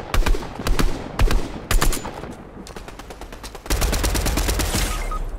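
Rapid bursts of gunfire in Fortnite Chapter 3 Season 2, several sharp cracks in quick clusters, then sustained heavy automatic fire near the end, loud and close with no talk.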